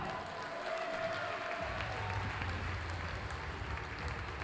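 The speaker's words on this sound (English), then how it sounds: "a round of applause for the man that's travelled all the way up from New Zealand to be here in Bridlington, the cowboy, McGrath." An audience at the Winmau World Masters darts tournament in Bridlington applauds faintly and steadily from a distance, the clapping sitting over a low hum of the venue for several seconds.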